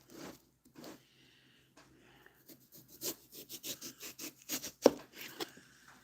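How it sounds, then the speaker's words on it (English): A knife saws down through watermelon rind in a run of quiet, rhythmic rasping strokes that pick up after a few near-silent seconds, close and unaccompanied by talk. "I'm just going to try and slice down here."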